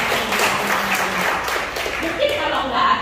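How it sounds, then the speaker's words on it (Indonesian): Applause from a congregation during an evening prayer church service, many hands clapping under loud speech and crowd voices throughout. "Tepuk tangan buat"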